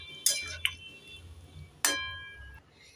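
A spoon stirs data chorchori, a stem-vegetable curry, in a cooking pot after water is added, giving three sharp metallic clinks against the pot, two close together and one later, over a quiet background.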